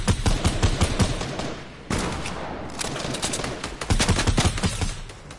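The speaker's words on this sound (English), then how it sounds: "Because I have a suppressor on my gun." Suppressed gunfire in a video game, rapid muffled shots in quick succession with a short pause, close and loud with no talking.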